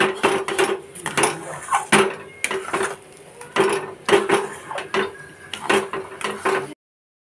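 Repeated hard knocking and scraping of stone on stone as roasted spices are ground, a steady irregular rhythm of grinding strokes, close and fairly loud, with no voices.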